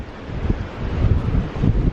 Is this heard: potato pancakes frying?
no